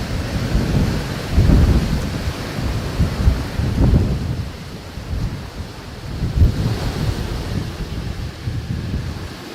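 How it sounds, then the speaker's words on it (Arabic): Strong outdoor wind and storm buffeting the microphone in heavy, surging gusts, a dense roar that swells and eases repeatedly throughout, loud and close with no voices. "صار هواء كلش قوي او عاصفة كلش قوية"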